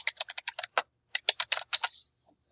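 Quick keystrokes on a computer keyboard while renaming a part in Onshape, a crisp close burst of taps, a short pause, then another rapid run of clicks ending in a faint trailing tap.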